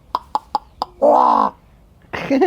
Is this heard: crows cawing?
yes